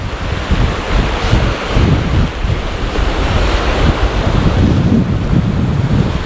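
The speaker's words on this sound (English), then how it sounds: "the water is quite strong, flowing very heavily" Heavy rushing water of a mountain stream in the Lake District roars continuously, mixed with strong wind buffeting the microphone, loud and close with no voices.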